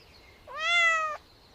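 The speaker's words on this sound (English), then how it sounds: "Yes, cat." A single drawn-out cat meow, clear and close, about half a second long with a rising then steady tone, standing alone against quiet background.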